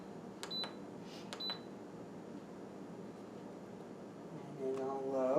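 Instant Pot pressure cooker control panel giving two short, high electronic beeps close together near the start, followed by steady low kitchen hum and a brief rise in noise at the end.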